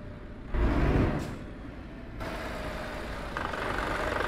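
A heavy truck engine in Euro Truck Simulator 2 rumbles at idle, with a brief louder surge near the start, then a steady drone with shifting tone.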